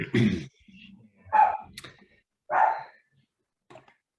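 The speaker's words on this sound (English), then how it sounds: "I have a dog which is going nuts in the background" A dog barks repeatedly indoors, loud sharp bursts spaced about a second apart with a few fainter yips, heard close by with no talk over it.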